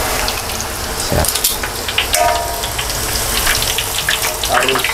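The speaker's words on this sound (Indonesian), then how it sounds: "cara menggoreng pangsit" Wonton wrappers (pangsit) fry in hot oil in a home kitchen, a continuous loud crackling sizzle with scattered pops and a few clatters of utensils, heard alone with no talk.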